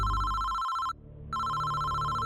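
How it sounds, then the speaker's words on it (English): A telephone bell ringing loudly and steadily, pausing briefly before ringing again, with no voices. "The phone rang again, louder, endless."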